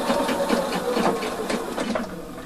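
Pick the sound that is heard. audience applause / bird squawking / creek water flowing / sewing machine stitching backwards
sewing machine stitching backwards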